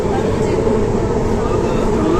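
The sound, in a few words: metro train passing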